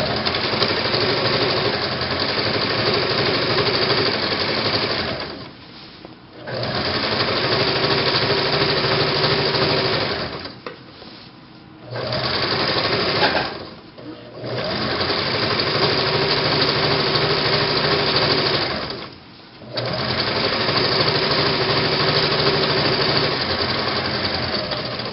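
Sewing machine stitching shirring with elastic and backstitching: a loud, steady mechanical whirring hum that stops in four short pauses before running on, with no voices.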